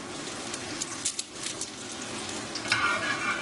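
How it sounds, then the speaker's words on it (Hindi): Ghee sizzles around a keema paratha on a hot pan, a continuous close hiss with a few light scraping taps over it, steady and moderately loud with no talking. "साथ ही थोड़ा सा घी लेके और ये साइड्स के ऊपर हम डालेंगे इस तरह"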